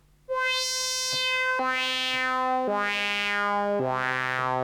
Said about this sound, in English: You can really hear that this is a analog synth.